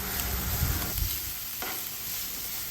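Green chilies sautéing in a hot pan give off a steady sizzle, broken by a few scraping stirs near the start.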